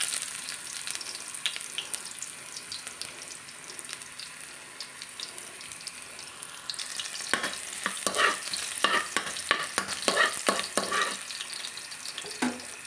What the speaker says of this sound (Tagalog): Una nating igisa ay garlic